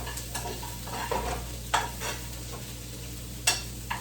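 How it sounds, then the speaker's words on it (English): Onion and garlic are stirred in a frying pan while they sizzle softly. A low hiss runs under occasional scrapes and clinks of the spoon against the pan, with no talking. "stir it gently"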